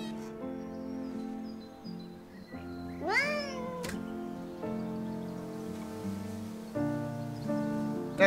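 A cat meows in the video game Behind the Frame, one clear rising-and-falling meow rising over a soft sustained music bed, close and moderately loud, with no one speaking.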